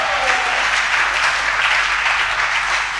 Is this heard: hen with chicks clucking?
no